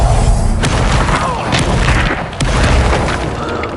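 A Confringo fire spell explodes in Hogwarts Legacy on PS5 Pro, a loud booming blast over dense continuous game action and rumble, with sharp bursts standing out.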